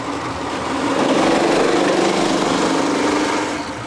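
A go-kart with a Swedish engine and no clutch drives toward the listener on a track in Yevpatoria, its high-pitched buzzing engine steady and loud, swelling as it nears and then easing slightly.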